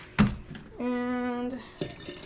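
Water pours steadily into a jar for a water and vinegar canning brine, a sustained filling tone lasting under a second between brief clinks and knocks nearby.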